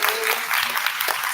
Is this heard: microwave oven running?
no